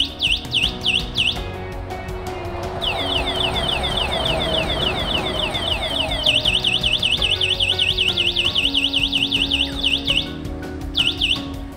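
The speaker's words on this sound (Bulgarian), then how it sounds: "При стартиране на алармата, освен звуковия сигнал, при опит за кражба се блокира и задното колело." Anti-theft alarm on a 72V electric bicycle, sounding loud repeated warbling electronic siren bursts in fast rhythmic cycles that pause briefly and restart, with no talking.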